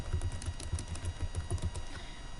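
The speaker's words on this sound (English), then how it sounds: "And as the student is typing," Computer keyboard typing on a shared document, a steady run of soft, quick keystrokes close by, with no talk.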